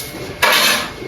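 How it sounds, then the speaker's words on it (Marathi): A single brief scrape of dishes, pots and pans being scrubbed, a sudden bright clatter-rasp that swells and fades within a second against a quiet room. "हे बघा 1 नंबर काय भांडी अशी घासाय की पटकन होते"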